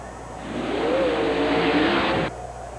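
A 1991 USHRA monster truck at full throttle in an 80-foot acceleration contest, a loud sustained engine roar that rises in pitch and holds steady, then cuts off abruptly near the end.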